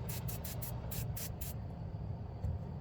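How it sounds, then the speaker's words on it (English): Brake cleaner sprayed onto a Freightliner Cascadia truck part during work on a regen issue: about seven short, sharp aerosol bursts in quick succession over the first second and a half, then a lone faint burst later over a steady low hum. "I like to hit it with a little bit of brake cleaner"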